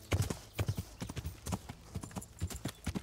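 Horse hooves clip-clop steadily along in Kingdom Come: Deliverance, a brisk, evenly spaced trot of sharp knocks close by, with faint game ambience behind and no talking over it.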